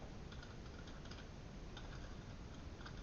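Quiet, steady keystrokes on a computer keyboard as coordinates are typed in, a soft run of close, even clicks with no talking.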